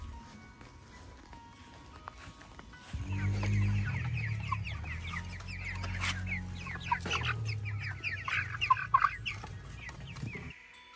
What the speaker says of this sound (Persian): این مرغای ما عزیزان 2 ماهه و باید که پروسس بشه